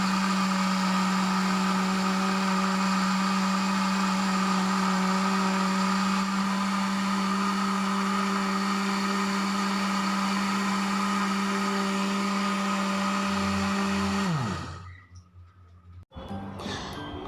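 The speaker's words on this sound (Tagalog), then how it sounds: "Ayan, tapos i-blend na natin siya." A blender whirs loudly and steadily, blending soaked rice and water for rice milk, then winds down and stops near the end.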